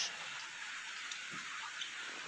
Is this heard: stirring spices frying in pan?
no